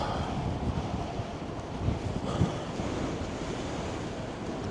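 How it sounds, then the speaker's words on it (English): Strong headwind roars steadily over the microphone of a cyclist riding in New Mexico, a constant close buffeting rush with no speech. "Damn this headwind."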